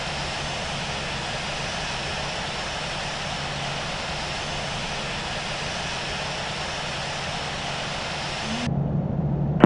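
Simulated airliner jet engines spooling for takeoff in the Infinite Flight game, a steady loud broadband roar holding throughout, then cutting off abruptly near the end.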